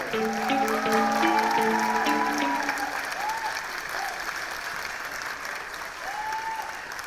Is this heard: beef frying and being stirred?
no